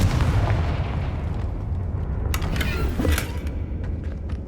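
Loud magical blast effects from the Confringo fire spell in the Hogwarts Legacy video game, a dense rumbling burst with sharp crackling bursts around the middle, booming steadily throughout.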